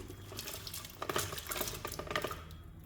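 Masoor dal is poured into a pot holding 1.5 litres of water, giving a soft patter and splashing swirl that builds midway and then settles, quiet and close, with no talking.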